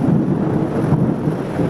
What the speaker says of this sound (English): You hear the thunder in the background?